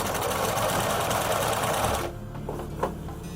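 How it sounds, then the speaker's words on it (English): A sewing machine runs continuously while stitching a sleeve onto a girl's dress. It gives a fast, steady mechanical whirr for about two seconds, then stops, leaving faint clicks and handling noises. "So we're now sewing the arm in."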